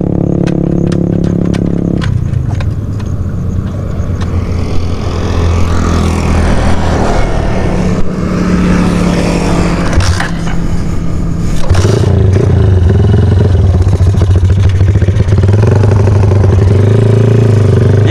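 Honda Tiger motorcycle, a modified bike fitted with imitation spare parts, kick-started and then running loud and close, its engine rumbling and revving with some mechanical clatter throughout.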